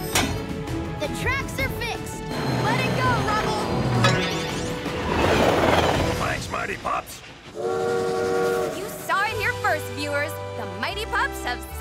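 Cartoon train sounds from PAW Patrol with chugging, whistle toots and rail rumble on broken tracks, loud and busy, mixed with music and voices throughout.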